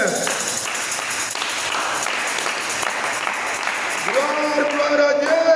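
A church congregation claps together through a worship service, with sustained, dense applause filling the room. A bright tonal sound rises over the clapping near the end.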